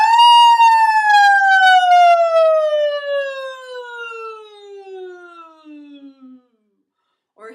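A human voice imitates a siren in one long, loud vocal glide that slides steadily downward in pitch over several seconds, heard alone.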